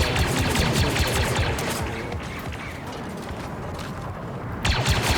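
Rapid gunfire in the sci-fi shooter Star Wars Battlefront II: a dense stream of sharp, overlapping blaster shots with crashing impacts, steady and loud throughout, briefly thinning before another burst at the end.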